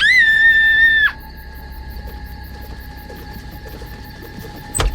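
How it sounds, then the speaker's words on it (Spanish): A dramatized sound effect of a girl screaming in the night: one loud, sustained high-pitched scream lasting about a second, then abruptly cut to a quiet, eerie background drone. "en medio de la noche la hija de la Toya se puso a gritar desde su habitación"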